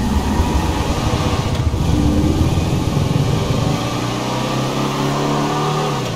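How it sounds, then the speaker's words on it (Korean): An Albany Brigham muscle car in GTA 5 revs its engine, a loud, throaty mid-range roar that swells and then settles into a lower, steady drone. "제가 엔진 소리 한번 들어볼게요."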